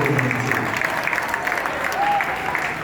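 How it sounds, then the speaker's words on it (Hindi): A crowd applauds at a live program held with a radio centre, producing a steady wash of clapping for the whole stretch with some speech mixed in. "सबके लिए जोरदार ताली बजाइए"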